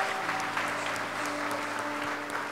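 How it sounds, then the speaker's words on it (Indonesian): An audience at a church talk gives sustained applause, a dense and even patter of many hands, fairly soft and continuous with no voices on top. "Tepuk tangan lagi dong"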